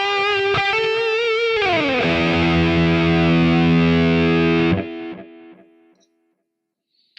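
Electric guitar solo tone from a Quad Cortex with heavy delay, loud sustained distorted notes with a bending pitch slide, then a held note that cuts off and echoes fade into silence.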